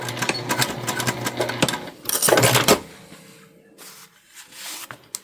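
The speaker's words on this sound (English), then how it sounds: "that noise that you hear my machine making, that is the foot grabbing for material" A home sewing machine stitches a quarter-inch seam on fabric scraps, its presser foot grabbing the material in a loud, close rattling run that pauses briefly, then sputters back in fainter short bursts.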